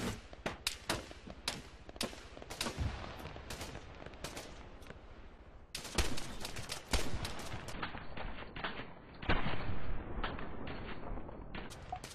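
Rapid gunfire from an Mk 18 ABR rifle in Arma 3 King of the Hill, with loud sharp shots in quick bursts and single cracks, plus scattered distant battlefield fire throughout.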